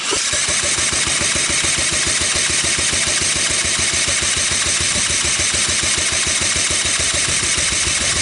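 A Honda ATC185S three-wheeler engine turns over for a compression test, a steady rapid chugging beat that runs loud and unbroken throughout, close up with no voices.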